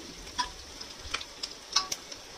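Chopped ginger frying in a pan, a soft steady sizzle with light stirring clicks and scrapes scattered throughout, fairly quiet and close, no talking.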